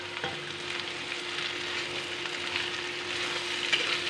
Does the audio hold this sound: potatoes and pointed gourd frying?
yes